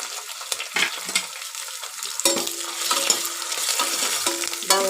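Garlic paste is stirred into onions frying in a pan. A spoon scrapes and taps the pan repeatedly over a constant sizzle, close and fairly loud.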